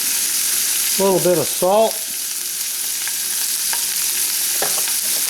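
Peppers fry in olive oil in a pan with a steady, close sizzle throughout, while a voice speaks briefly near the start over the frying.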